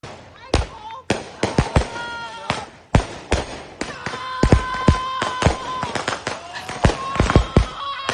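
Fireworks and firecrackers pop and bang in a dense, irregular string of sharp cracks, some near and loud, others fainter, while people talk over them.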